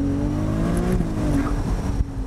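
A Ferrari with an 830-horsepower turbocharged six-cylinder engine roars close and loud. Its revs rise in a continuous sustained tone.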